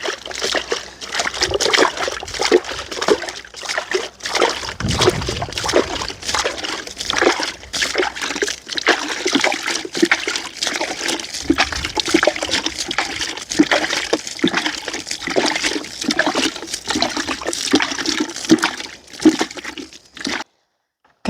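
Water is poured onto a garden plot in an uneven trickle and splatter, with irregular splashes and pauses that run close by for most of the time before stopping near the end.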